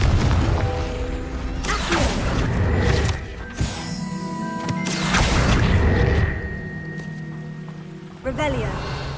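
A Confringo fire spell bursts in Hogwarts Legacy, a heavy booming blast with crashing debris rumbling across the scene, followed by further spell effects and magical chimes, with a player's voice talking over the game audio.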